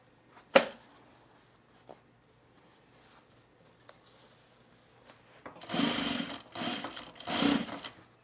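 A home sewing machine runs in short bursts while stitching the inseam of men's cargo shorts. Isolated clicks and taps come first, then three close, moderately loud stitching runs in a quiet room.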